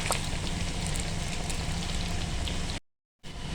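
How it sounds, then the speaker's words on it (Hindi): Chicken pieces frying golden in hot oil for dry chilli chicken give a dense, continuous crackling sizzle at close range, broken by a brief silent gap near the end. "चिकन हमारा फ्राई हो चुका है।"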